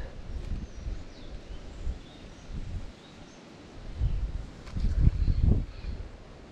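Wind gusts buffet the microphone beside the Seversky Donets river, a low rumbling rush that swells and eases, strongest in a couple of bursts near the end, with faint bird chirps and rustling in the background.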